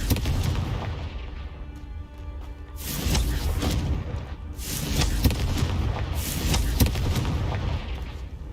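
Confringo fire spells burst in repeated booming explosions during Hogwarts Legacy gameplay, several heavy blasts arriving in waves with rumbling tails.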